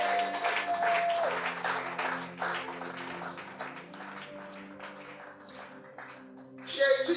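A church congregation applauds to acclaim Jesus, a rolling wave of clapping and cheering over a sustained organ or keyboard chord. The applause swells loudly at first, then thins out before a final burst.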